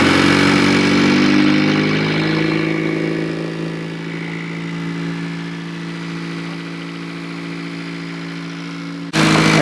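A Honda Civic Si engine, just fitted with a new clutch, runs loud and close: a steady idle hum that eases slightly partway through, then cuts off abruptly near the end, with no voices.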